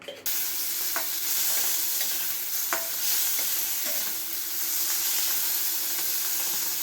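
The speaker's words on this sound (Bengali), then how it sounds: "এবার আমি চিংড়িগুলো একটু ভেজে নেব।" Prawns fry in ghee and white oil with a sprinkle of salt, giving a steady, loud, close sizzle that runs throughout, with a few light clicks of stirring.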